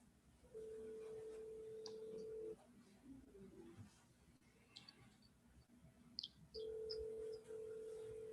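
A phone being dialed to call Connie gives a faint steady tone at first, then soft clicks and a few short key beeps, then the tone again, quiet against room noise.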